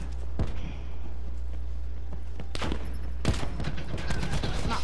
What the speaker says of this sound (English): I literally just put 30 bullets into him and he survived